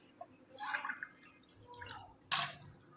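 Water poured into a pot to make rice flour dough for steamed modak, heard as a few soft splashing and dripping bursts with a brighter splash near the end, fairly quiet and close.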